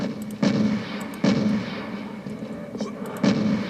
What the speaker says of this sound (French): Il faut toujours tenter au lance-roquette.